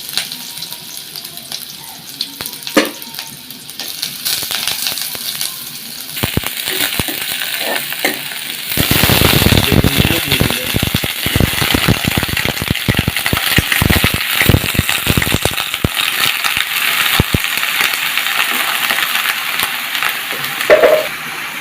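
Chopped onions fry in hot oil, starting as a quieter crackle and swelling into a loud, steady sizzle with clinks and scrapes of stirring.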